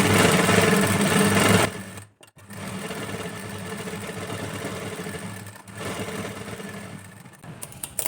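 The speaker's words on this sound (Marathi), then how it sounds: "आता सगळं जे स्लीव्ज आहेत ती मी याच्यावरती स्टिच करून घेते कॉर्नरवरती त्याच्या" A sewing machine runs steadily while stitching sleeves onto a princess-cut blouse, a loud close whirring drone with two brief pauses before resuming.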